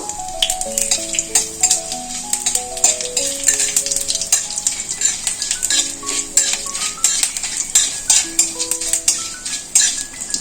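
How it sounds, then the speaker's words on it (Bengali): Dried red chilli, a bay leaf and panch phoron sizzle in hot mustard oil in a kadai, a soft steady hiss broken by frequent light metallic clinks and scrapes of a spatula against the pan. "কড়াইয়ের মধ্যে সর্ষের তেল দেব একটা শুকনো লঙ্কা দেব একটা তেজপাতা দেব পাঁচ ফোড়ন দেবো"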